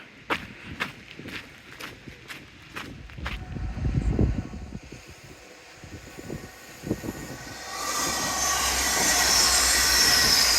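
A large train rumbles past at Teignmouth by the beach, rising to a loud, steady roar of wheels on rails after some earlier clanking and footsteps.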